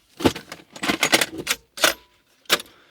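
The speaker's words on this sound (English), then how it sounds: "I'm just going to shuffle them around and pick a tape, put it in the tape player" Several short clattering bursts of hard plastic cassette tapes knocking together as they are shuffled, irregular and close, with brief pauses between them.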